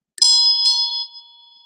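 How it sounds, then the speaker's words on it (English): A small bell, handled while being moved, rings out with a bright metallic tone, struck twice in quick succession and left to decay into a long ringing tail, close and fairly loud with no talk over it. "Oh, let's move the bell."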